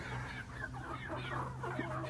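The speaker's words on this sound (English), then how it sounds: "what are all those chickens doing in there?" Chickens cluck softly and continuously for a couple of seconds, with low, overlapping calls heard against a quiet outdoor background.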